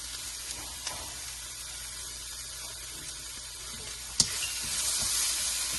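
Spring onion whites and vegetables sauté in a pan for street-style veg chowmein, giving a soft continuous sizzle with a few sharp clinks of utensils against the pan.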